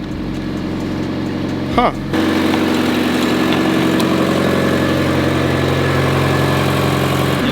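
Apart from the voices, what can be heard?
Mazda Miata barn find engine idling after starting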